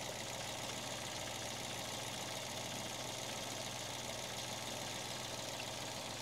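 A Peugeot 107 engine idles steadily during coil pack and injector testing, with a constant low hum and faint rattle, continuous and unchanging throughout.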